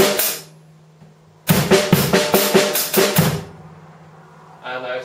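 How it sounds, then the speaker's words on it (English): A drum kit plays a short groove in which a snare backbeat is set against extra hi-hat notes. A single note comes first, then a dense burst of close, punchy hits, and a quieter fill follows after a pause. "like a snare drum backbeat on the third hi-hat, and then we need to add in an extra hi-hat note as well"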